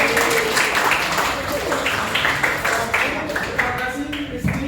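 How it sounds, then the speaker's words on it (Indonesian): Applause from a classroom audience during a teaching session, dense overlapping claps filling the whole stretch at steady moderate loudness, with voices mixed in underneath. "Tepuk tangan."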